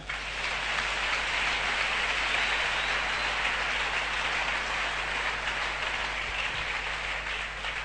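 A church congregation applauding together to acclaim the Lord, a dense, steady roar of clapping that holds evenly throughout with no voices standing out.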